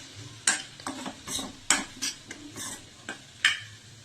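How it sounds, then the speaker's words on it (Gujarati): A spoon scrapes and knocks against a pan while pasta masala is mixed into pasta, giving several sharp clinks at irregular intervals over soft stirring, close and fairly quiet. "હવે આને આપણે સારી રીતના મિક્સ કરવાનું છે।"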